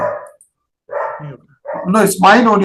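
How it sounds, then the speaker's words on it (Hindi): A dog barks near a house, with a few short, loud yaps mixed into a video call where people are talking over the sound. "There's a dog near my house."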